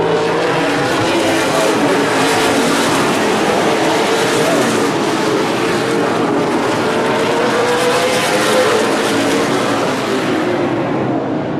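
A super late model race car at Evergreen Speedway powers out of turn 4, a loud sustained engine roar with shifting pitch amid track noise and a commentator talking over it.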